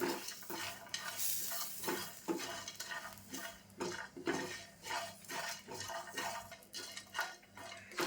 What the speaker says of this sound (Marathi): आता हे व्यवस्थित भाजून झालं आहे खोबरं बिबरं सगळं मसाले